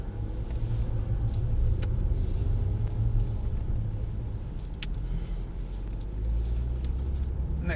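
A Mercedes AMG E63 drives on the Mercedes-Benz World race track, with a steady deep engine rumble and road noise heard from inside the car.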